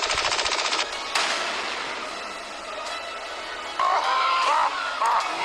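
Machine gun fire in the driving game BeamNG drive, rapid rattling bursts at the start and end with a noisy lull between, loud and close with no talk.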